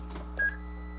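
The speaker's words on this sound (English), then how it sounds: "I like the key turning and the engine beeping." A single short electronic beep sounds as the key turns to start a Thomas HDX school bus, heard over a steady low engine hum with a faint click just before it.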